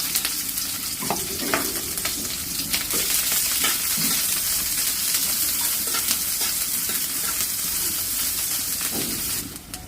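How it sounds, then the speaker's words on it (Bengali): Chopped onion fries in hot oil with whole cumin, a bay leaf and a dried red chilli, hissing loudly and steadily at close range while a spatula stirs and scrapes now and then. "পেঁয়াজটা একটু ভেজে নিয়েছি"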